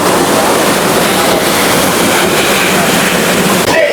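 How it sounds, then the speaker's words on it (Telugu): Water pours over rocks at the Irala Jilledu Bugga waterfall in Chittoor District into a pool below, making a loud, steady, broadband rush that fills the whole stretch without pause. "సో బండల పైన నుంచి ఆ వాటర్ అలా పడుతూ ఉంటే"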